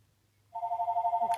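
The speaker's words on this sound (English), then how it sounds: "Can you stop ringing phone?" A telephone starts ringing about halfway through, a steady warbling electronic trill, clear and moderately loud over a quiet low hum, with no one talking.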